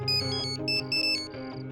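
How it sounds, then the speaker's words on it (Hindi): A melodic electronic ringtone chimes in a repeating pattern of bright tones over a steady low hum, fairly loud and close. "तारा का फोन"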